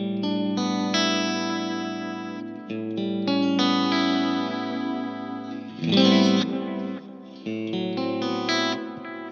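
Electric guitar through a Mesa Dual Rectifier amp with a Flint pedal in front, playing sustained chords and melodic lines with lush modulation and reverb. The tone is close and full, with no voice.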